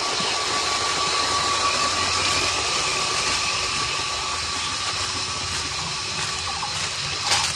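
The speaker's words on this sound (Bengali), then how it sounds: "কি সুন্দর মোটর চালু করে আর খুব সুন্দর জল বেরোচ্ছে" An irrigation water pump motor running beside rice paddy fields, a steady loud mechanical drone with a constant hum and rushing water noise throughout, unchanging and close.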